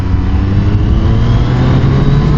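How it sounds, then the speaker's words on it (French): Triumph 765 R motorcycle accelerating hard with a quickshifter, giving a loud, close, steady engine drone for a couple of seconds, with no talking. "On va tenter une petite accel."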